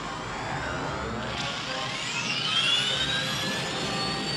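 A roaring jet-like engine blast fires in a Transformers G1 cartoon scene as an asteroid is launched, a loud continuous rush with rising and falling whistling tones, steady throughout.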